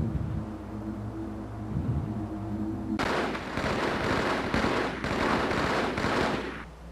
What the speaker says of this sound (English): Firing squad.